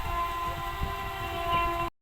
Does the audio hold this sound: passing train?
yes